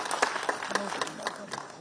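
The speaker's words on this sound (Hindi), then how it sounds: "और जोरदार करताली हो।" An audience applauds on request at a public speech by Odisha's chief minister, with a quick run of crowd clapping and a voice carrying over it.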